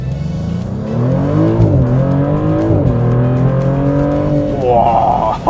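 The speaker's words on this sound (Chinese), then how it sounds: "这叫海神的引擎，哇，太酷了。 哇，尤其在转速起来了之后，" The Nettuno engine of a new Maserati GT, paired with an 8-speed automatic, revs up in rising swells, dips as gears change, and climbs again, loud and close throughout.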